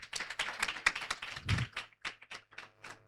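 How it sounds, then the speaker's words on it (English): A small audience at a debate competition claps sparsely, uneven individual claps and taps that thin out into a few scattered hits, fairly quiet and close. "a round of applause."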